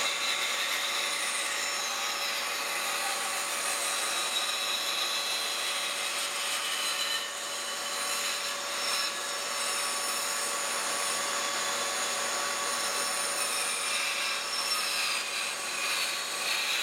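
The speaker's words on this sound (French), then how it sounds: "je t'invite à faire le même genre de découpe, mais là, avec une bonne scie" A hand saw cuts through wood on a steel table, giving a steady, continuous rasping stroke that runs the full length without pause, fairly close and with no talking.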